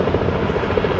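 A helicopter overhead makes a loud, steady rotor thudding with a pulsing beat, close and dominant throughout the short moment.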